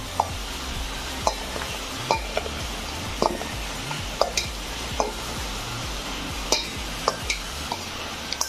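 Okra being tossed by hand with fried spice powder and cornflour, dry and without water, giving a steady rhythm of soft mixing pats and small clinks close up, with no speech.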